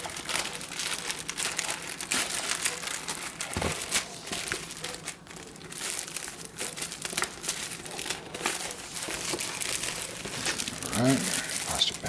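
Plastic packaging from a speaker unboxing crinkles and rustles continuously up close, with scattered crunches and a brief low murmur partway through.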